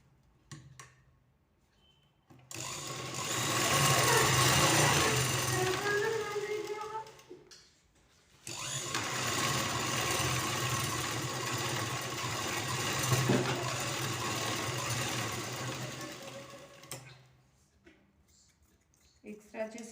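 A sewing machine stitches a plain blouse sleeve, running steadily in two long stretches, a whirring mechanical drone with short pauses between the runs.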